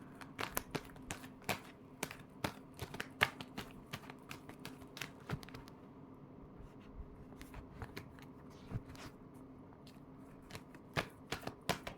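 A deck of tarot cards is shuffled close up, a quick irregular run of crisp flicks and riffling snaps, fairly quiet with no speech.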